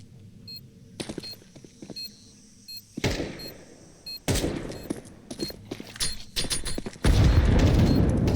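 A grenade blast in a Counter-Strike match amid bursts of gunfire, with sharp shots and a heavy, loud rumbling explosion swelling near the end, plus faint electronic beeps.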